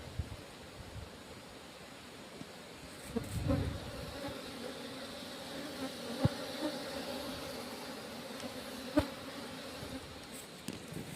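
Honey bees buzz steadily around a wooden nest box fitted with a queen gate, with workers coming and going. The dense, continuous drone is close and alone, swelling with a few louder passes as individual bees fly near.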